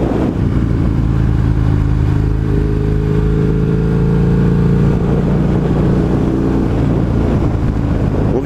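A Husqvarna 900 Nuda motorcycle is ridden at speed, its engine droning loud and constant as the pitch rises slightly through the middle, with heavy wind rush over the microphone throughout.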